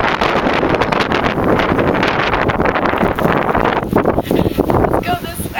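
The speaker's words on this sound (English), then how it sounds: "Okay, it's really windy." Strong blizzard wind roars and buffets the microphone outdoors in the open, a loud, continuous rushing gust with rough bursts throughout.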